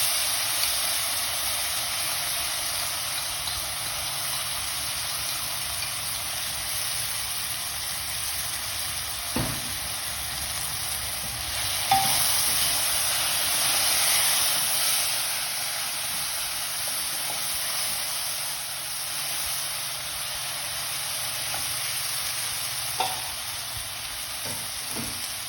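Prepared spice paste frying for Bengali chana dal, producing a continuous broad hiss and sizzle held steady throughout, with only an occasional faint knock of a utensil against the pan.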